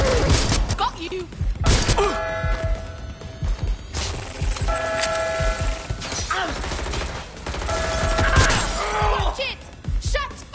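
Watch Dogs Legion gunfire rings out in repeated sharp bursts mixed with shattering glass and heavy thuds, loud and chaotic, with in-game voices shouting between shots.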